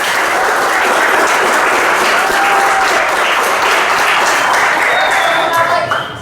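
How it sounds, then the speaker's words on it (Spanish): Loud, sustained audience applause after a student's final presentation in an information technology course, continuous clapping from a room of listeners that tapers slightly at the end, with voices mixed in. "vamos a darle un fuerte aplauso."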